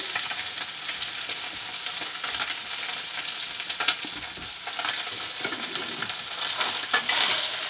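Salmon fillets sizzle and fry in a hot pan, a steady dense crackle with occasional stirring and scraping, close and continuous throughout without any talking.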